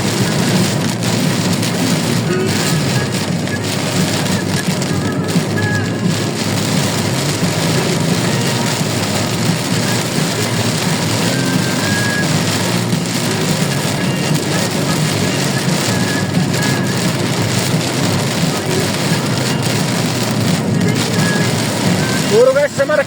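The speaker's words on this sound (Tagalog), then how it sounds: "lakas na lang yung ulan." Heavy rain pours continuously in a dense, loud hiss in Bocaue, Philippines, with occasional voices faintly audible beneath the downpour.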